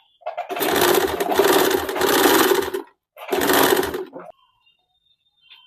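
An electric sewing machine stitches lace into a circle in two loud, fast runs, about two and a half seconds and then one second, with a brief pause between them. A faint voice is heard near the end.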